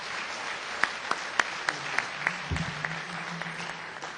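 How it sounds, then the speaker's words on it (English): Applause from an audience at an awards luncheon, steady moderate clapping with a few sharper individual claps standing out, fairly close, while a brief low voice murmurs beneath it. "Let's give him a round of applause"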